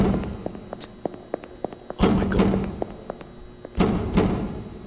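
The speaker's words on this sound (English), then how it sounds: "Who's banging on that door? Go away, stop banging on the door." In the video game The Exit 8, someone bangs on a door. Scattered light knocks and thuds build to two heavy booming bangs, one partway through and another near the end. No one speaks.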